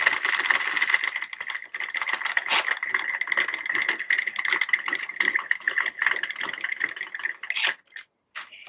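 A Sentro 48 circular knitting machine is cranked steadily, its plastic mechanism clattering in a dense, continuous close rattle that stops abruptly near the end, with no talk.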